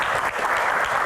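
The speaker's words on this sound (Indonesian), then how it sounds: "Kita berikan tepuk tangan yang paling meriah" Studio audience applause for a guest, Ustaz Dennis Lim, at a Q&A talk show: dense, steady clapping from a crowd, loud and continuous throughout with no gaps.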